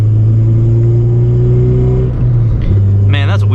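A 9th-generation Honda Civic Si engine revs under acceleration with a loud, rising drone that climbs steadily, dips briefly as the throttle changes, then resumes, heard from inside the car.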